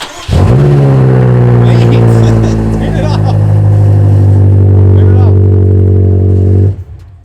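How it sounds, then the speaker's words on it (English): In a rev battle between a BMW X6M and a Lamborghini Urus, one engine is revved hard and held high for about six seconds, loud and close, before cutting off abruptly. "we're gonna do a rev battle challenge between"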